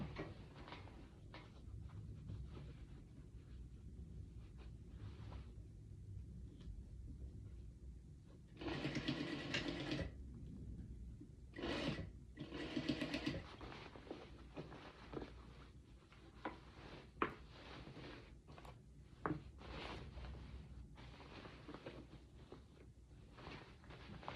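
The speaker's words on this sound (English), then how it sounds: "So as you sew, just take out your pins as you sew." A sewing machine stitching a skirt hem runs in a few short bursts, separated by quiet stretches of soft fabric handling and small knocks nearby.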